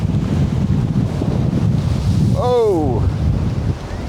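Strong wind from Storm Byron in Paphos, Cyprus buffets the microphone in a constant loud roar, and midway a person briefly exclaims over the noise.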